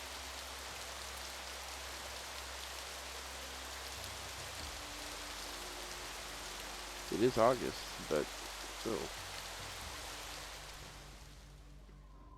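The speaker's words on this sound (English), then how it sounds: "It's raining." Steady rain falls in the video game Colonize, a constant hiss of drops throughout, with someone speaking briefly over it midway.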